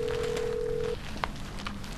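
A mobile phone rings in a meeting room, a steady electronic tone that cuts off after about a second, followed by a couple of faint beeps against a background hum.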